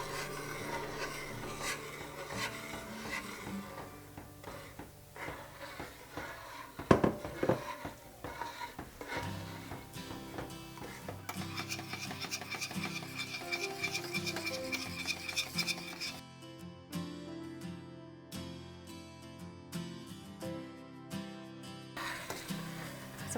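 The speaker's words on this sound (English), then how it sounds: "We're just gonna keep stirring and let it boil for about 1 minute." A spoon stirs boiling wineberry jelly with sugar in a pot on a burner, with continuous scraping and rubbing against the pot, a bubbling simmer, and one sharp knock, close and steady.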